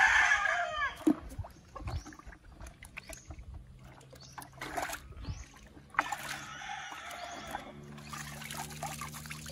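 A fighting rooster being bathed in shampooed water, with splashes, dribbling water and handling noises, and a brief crow-like squawk from the gamecock near the start, all close and intermittent.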